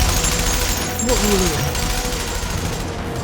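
A handheld 7.62 mm ballista in the Tsukihime game lets off a dense, continuous fusillade of gunfire, loud and steady throughout, with a brief falling whine in the middle.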